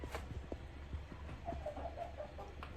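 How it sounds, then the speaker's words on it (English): Two hens and a rooster perched up high give off soft, faint clucks and a brief murmur of calls over a steady low hum, with no talking. "2 hens and a rooster."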